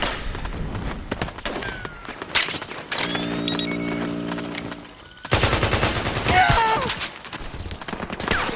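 Heavy automatic gunfire from Metal Gear Solid 4: Guns of the Patriots fills the scene, with dense bursts and sustained rattling volleys that pause briefly, then resume louder. A steady mechanical drone runs through the middle.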